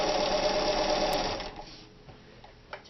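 A sewing machine running a wide, close zigzag satin stitch whirs loud and steady for about a second and a half, then slows and drops off to a quiet hum with a faint click near the end.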